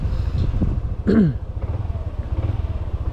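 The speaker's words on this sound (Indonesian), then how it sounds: "Kita panasin dulu, kita biarkan si oli di mesinnya itu naik dulu ke atas" A 2018 first-generation Yamaha NMAX scooter engine idles to warm up, a steady low rumbling putter running nearby throughout, with a brief rising whine partway through.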